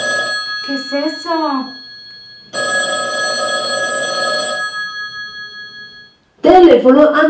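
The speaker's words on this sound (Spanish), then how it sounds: "Teléfono antiguo." An old telephone bell rings in a steady, bright burst lasting about two seconds, loud and close. A voice is heard before the ringing and again afterward.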